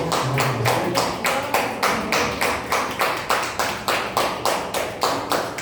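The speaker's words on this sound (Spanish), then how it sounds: "Le damos un aplauso al Señor" A church congregation claps in unison, a loud, steady rhythmic beat of about two claps per second that continues evenly, with no talking over it.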